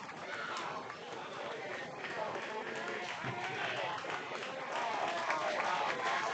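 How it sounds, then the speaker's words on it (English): Fans cheer at a Firecracker tournament pool-play baseball game between Post 22 Hardhats and Premier West. A steady wash of crowd noise and clapping swells slightly toward the end, under a commentator speaking. "The crowd getting behind him."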